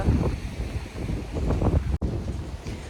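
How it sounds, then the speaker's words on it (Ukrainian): A calm sea on a windy day, with loud wind buffeting the microphone over a soft wash of small waves and a brief dropout near the end. "Море сьогодні спокійне."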